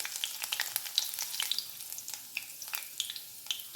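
Chopped green chilies and panch phoron fry in hot oil for a lentil dish with winter greens, a steady close crackling sizzle with scattered sharp pops and faint stirring, no voices.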